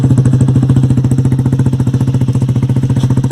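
A Honda Grom motorcycle fitted with an SC Project exhaust idles in neutral, loud and close, with a steady rapid low thumping pulse and a raspy, dirt-bike-like tone throughout.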